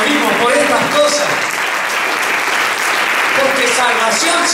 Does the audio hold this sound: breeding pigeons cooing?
no